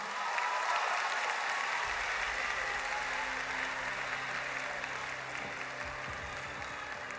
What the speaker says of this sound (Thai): ปรบมือเป็นกำลังใจกับพวกเธอหน่อยครับ